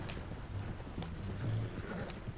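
Horse hooves clip-clop in Red Dead, a steady trotting rhythm of soft, fairly close hoof strikes under a faint background bed.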